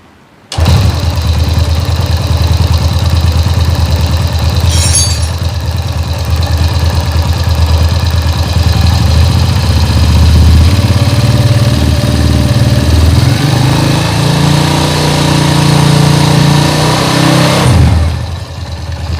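A freshly rebuilt motorcycle engine fires up and settles into a loud, steady idle during an oil pump check, with a brief rise in revs before it is shut off near the end.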